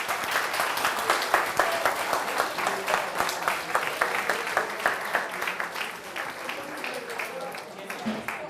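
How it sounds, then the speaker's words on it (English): A crowd applauds after a flame experiment at a school demonstration, dense rhythmic clapping that holds steady at moderate loudness with some voices mixed in beneath it. "Applause, people."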